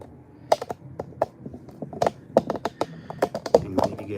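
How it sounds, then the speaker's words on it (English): Paper test strips for darkroom photo printing being cut, giving a run of sharp, irregular snips and taps at close range, spaced unevenly across a few seconds with faint background rustle. "I'm gonna cut some test strips"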